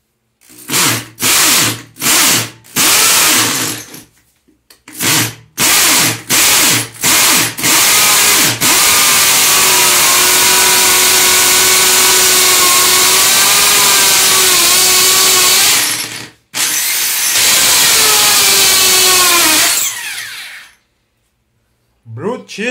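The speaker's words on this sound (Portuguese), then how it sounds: "Feita a marcação, a gente muda pro martelete." A rotary hammer drilling into a porcelain tile floor during a toilet installation, loud and close, with several short bursts that give way to a long sustained whining grind, a brief pause, then more drilling.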